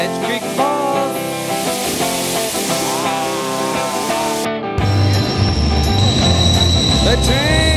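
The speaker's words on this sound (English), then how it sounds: "The train!" A train passes near a waterfall trail, with loud metallic screeching wheel squeals and clattering, then a heavier rumble and rushing noise as the cars roll by close.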